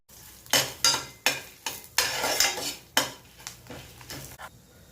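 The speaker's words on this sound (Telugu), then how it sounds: "పచ్చిమిర్చి, ఎండుమిర్చి వేగుతున్నాయి." Green and dry red chillies frying in a pan: a spoon repeatedly scrapes and clanks against the metal, sharp regular knocks over a faint oily sizzle, close and alone.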